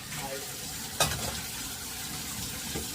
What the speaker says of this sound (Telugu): ఇప్పుడు వచ్చేసి మాది చిక్కుడుకాయ ఫ్రై